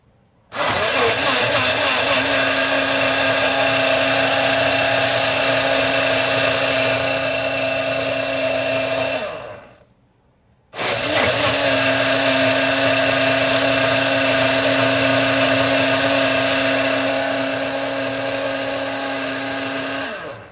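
A blender whirs loudly and steadily as it purées fresh apple juice, running about nine seconds, stopping briefly, then starting again for another long, even stretch.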